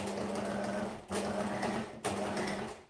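A sewing machine chain-sews fabric pieces in three quick runs of rapid, even stitching, each run separated by a brief pause as the next piece is fed in.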